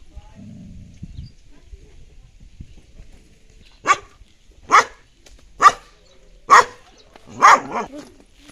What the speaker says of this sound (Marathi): इथे आहे त्यांचा डॉगी